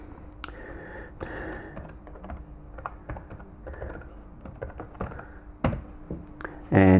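Typing an admin password on a computer keyboard: a quick run of light key clicks at close range, with a few louder taps and a brief clatter near the end.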